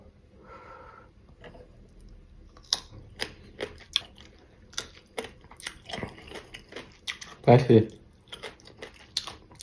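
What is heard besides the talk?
crunching sour mango with sauce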